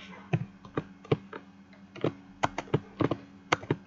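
Code being typed on a computer keyboard, with quick, irregular clicks and keystroke taps in short bursts, close and fairly quiet, no voices.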